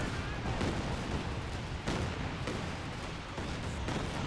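Calliope rocket barrage in the World War II strategy game Company of Heroes 2, a dense continuous roar of rocket launches and explosions with repeated heavier booms punching through, loud and close throughout.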